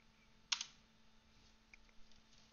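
Typing on a computer keyboard while entering a command in a terminal, heard as a short burst of close clicks at the start, a few lighter scattered keystrokes in the middle and a sharp final keypress at the end.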